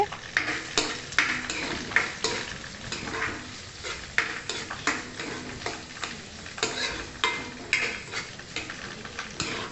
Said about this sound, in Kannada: ಸೇರಿಸ್ಕೊಂಡು ಈರುಳ್ಳಿನ ಹೊಂಬಣ್ಣ ಬರೋ ತನಕ ಫ್ರೈ ಮಾಡ್ಕೋಬೇಕಾಗುತ್ತೆ